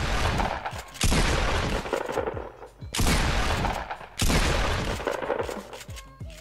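Pump shotgun blasts in the Fortnite video game, three loud booming shots spaced about one to two seconds apart, each with a long decaying tail, with faint talking between them.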